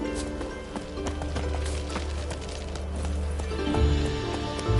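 Horse hooves galloping in the video game The Witcher 3, a steady rhythmic clip-clop close up throughout, with game sounds in the background and a brief heavier thump near the end.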